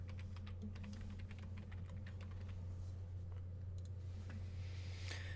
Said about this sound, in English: Let me type that in quick.